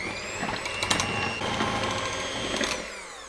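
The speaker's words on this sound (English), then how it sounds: "I'm taking an electric beater. And I'm gonna beat this until it's just kind of" Electric beater whipping a gingerbread-house mixture with kirsch until frothy, a close, steady whirring motor whine with slight rattling that runs continuously and then cuts off near the end.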